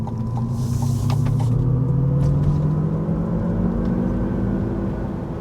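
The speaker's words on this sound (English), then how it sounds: "let's get out on the road for our test drive, and I'm going to let you listen for a few seconds" A GMC Hummer EV 3x pickup on a road test drive sends up a loud, steady rumble of road and tire noise with a rising electric whine and faint creaks, heard from inside the cab with no talking.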